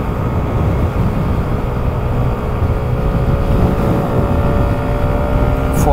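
A 2024 Kymco Skytown 125 scooter with an 11 hp engine runs at full throttle uphill, its steady broad drone loud and continuous, mixed with wind rush and no voices.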